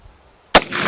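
A single sharp, loud shot from an original 1860 Colt conversion revolver cracks close by after a moment of quiet, followed by a short echoing tail.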